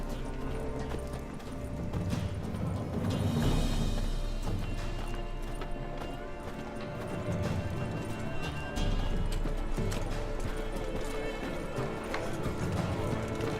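Horse hooves in The Witcher 3: Wild Hunt clop steadily at a run over a rumbling, busy background, with occasional whinnies and thuds, continuous throughout.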